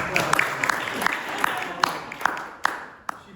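An audience at an award presentation claps in scattered, uneven bursts, fairly close but modest in volume, with a voice faintly underneath.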